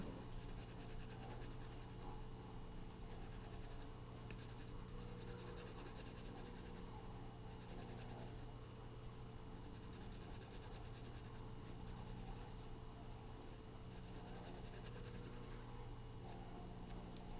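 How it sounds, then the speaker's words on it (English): A pen or marker scribbles steadily across paper, filling in a drawn square with repeated back-and-forth rubbing strokes in close, soft, continuous bursts with no voice. "I can color this 4 square in on my paper"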